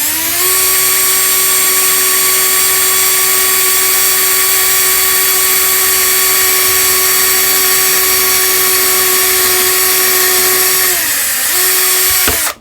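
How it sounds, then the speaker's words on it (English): A 1/16 inch bit drills a hole in an acrylic ornament, a loud, steady high-pitched power drill whine held for about eleven seconds, then dipping briefly and cutting off at the end. "and I'll be quiet while I drill"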